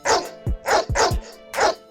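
A dog barks in four sharp, loud bursts close by, quick and uneven in rhythm, with no one talking.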